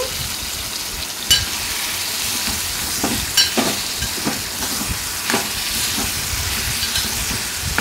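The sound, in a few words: stirring plantain pieces into tomato gravy curry in a pan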